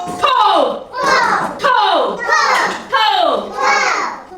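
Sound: children imitating a gun firing

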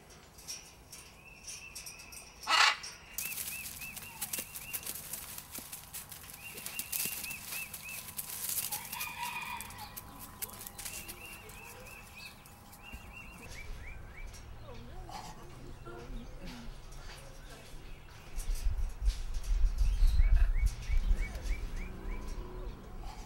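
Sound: bird singing in the video game Moon Quest

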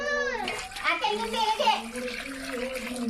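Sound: water being poured into pot for crab curry

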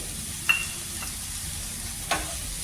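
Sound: hot water poured into sizzling pan of sprouted moth beans for misal

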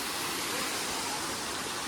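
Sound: waterfall at Pavagadh

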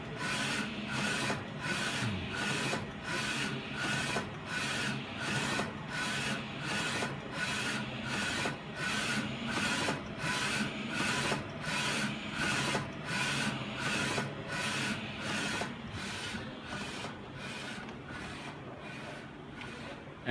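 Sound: phone case printer printing white and colour ink

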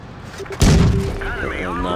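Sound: tank cannon shot in World of Tanks Blitz video game

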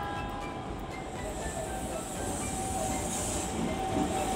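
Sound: Keikyu train arriving at Shinagawa station

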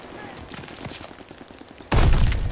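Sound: gunfire in the video game Call of Duty Vanguard

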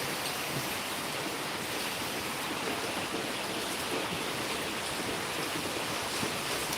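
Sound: rain spray splashing onto the phone

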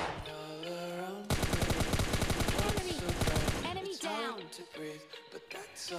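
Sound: pistol gunfire in PUBG Lite video game

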